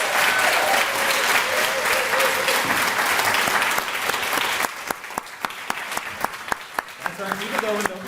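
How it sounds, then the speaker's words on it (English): A crowd at the TomGreen Awards 2024 bursts into loud, dense applause for award recipients, with some cheering. Midway it thins to a handful of sharp, distinct claps, and a voice briefly speaks near the end. "give the biggest round of applause one more time for our 5 recipients tonight"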